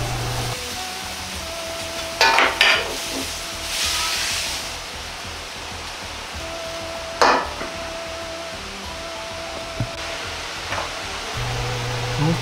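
Meat and vegetables stir-fry in a pan for Chinese-style nikujaga, a steady sizzling hiss broken by a few sharp scrapes and clacks of a utensil against the pan, close and fairly loud.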